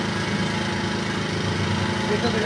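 A chainsaw runs off a Toyohama inverter portable generator, a steady buzzing engine drone held at constant speed, fairly loud and close, with voices nearby.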